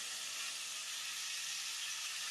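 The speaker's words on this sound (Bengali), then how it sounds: "নুন আর হলুদ দিয়ে আমি খালি জাস্ট ওটা একটু ভাজা ভাজা করবো এখন" Turmeric and salt frying in a pan, giving a steady, close broadband sizzle that holds evenly throughout with no talk over it.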